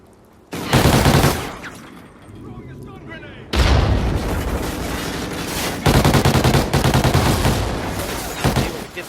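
Gunfire bursts from a Call of Duty: Ghosts match in a competitive tournament, with loud rapid volleys and explosive booms recurring through the clip.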